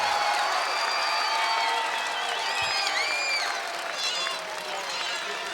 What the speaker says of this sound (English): Crowd is juiced, man.